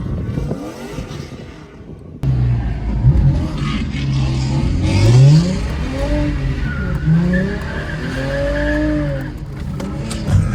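Toyota Mark X car engine revving and setting off to drift, with rising and falling engine tones over a steady rumble and occasional tire squeal, loud and close.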